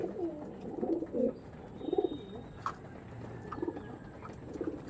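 Soft, low coos of tippler pigeons repeat in short phrases, fairly faint, with a quiet, hissy background.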